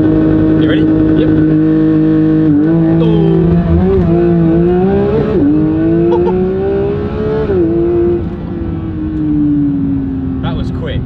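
A Porsche 911 GT3 992 launching hard under launch control, its loud engine revving high and climbing through quick gear changes before easing off, close inside the car.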